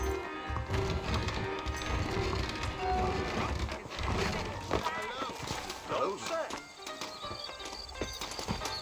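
Horse hooves clip-clop in a steady galloping rhythm in the video game Red Dead Redemption, under ongoing talk, with music and ambient noise filling the background.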